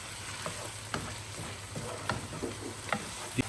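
Spices being stirred into mutton curry in a pan, a soft continuous frying sizzle under a steady low hum, broken by intermittent scraping and tapping clicks of a spoon; no talking.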